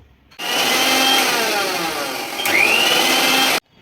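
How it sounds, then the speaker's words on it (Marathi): A kitchen mixer grinder grinding dates whirs loudly and continuously for a few seconds, its motor pitch shifting midway, then stops abruptly. "हे खजूर आपण आपल्या मिक्सरमध्ये टाकून त्याला बारीक करून घेऊ"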